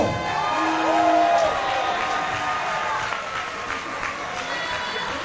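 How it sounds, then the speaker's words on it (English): A wrestling event crowd cheers and applauds loudly, with whoops, a rising whistle and sustained clapping filling the hall, while a voice speaks under the noise. "how about a round of applause for the champ, Dalton Castle?"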